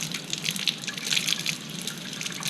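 Jewellery being rinsed under running water, a steady splashing stream with small drips and gurgles, continuous and close.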